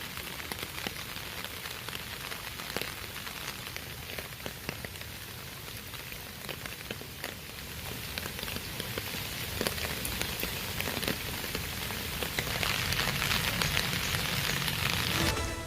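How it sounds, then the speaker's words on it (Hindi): Heavy rain falls in Valsad, Gujarat, a dense, continuous hiss of drops striking surfaces with scattered sharper splats, growing slightly louder toward the end. "जहां भारी बारिश के कारण शहर के कई रिहायशी इलाकों और घरों में भारी जलभराव हुआ।"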